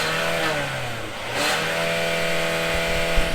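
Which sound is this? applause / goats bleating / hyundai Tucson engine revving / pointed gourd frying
hyundai Tucson engine revving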